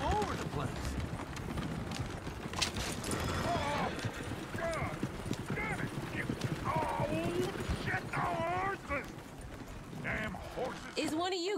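Steady clip-clop of horse hooves through a Red Dead Redemption 2 game scene, with people talking over it and some background music.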